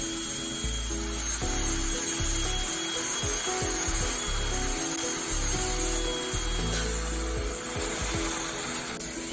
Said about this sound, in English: The diamond, I'm removing the extra acrylic.